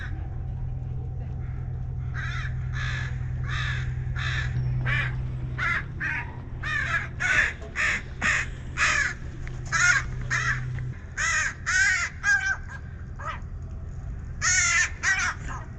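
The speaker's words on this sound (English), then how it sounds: "I was watching those two little crows have their little argument" Two crows caw back and forth in a squabble out on a harbour dock in Prince Rupert, British Columbia, a rapid series of loud, harsh calls in irregular bursts over a low steady hum, with no talking.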